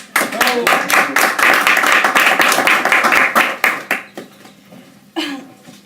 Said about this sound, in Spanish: Le damos la bienvenida al profesor Garcés. Por favor, un aplauso.